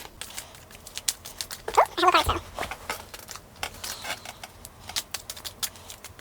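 A deck of tarot cards is shuffled by hand in a string of crisp, close clicks and papery flutters, with a busier burst of card rustling partway through.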